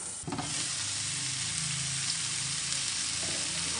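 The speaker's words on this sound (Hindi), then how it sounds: "इसको हम ऐसे ही चारों तरफ से पलट पलट के सेकते रहेंगे" Paneer tikka pieces sizzle loudly in a hot pan as they are roasted and turned, a steady dense frying hiss that continues throughout without speech.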